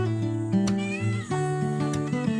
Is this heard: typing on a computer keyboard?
no